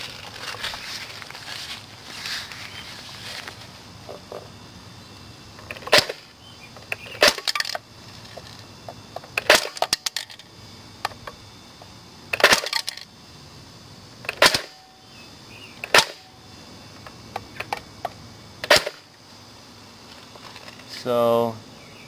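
An AUG A3 rifle firing at a Coke can gives several sharp, separate cracks spaced a second or two apart, heard at moderate loudness over quiet room tone, with people talking in between.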